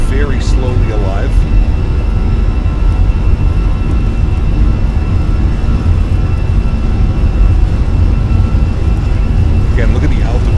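Airbus A320 CFM engines at takeoff power in Microsoft Flight Simulator roar with a dense, constant broadband rumble and hiss that stays loud and unbroken throughout, with faint voice fragments at the start and end.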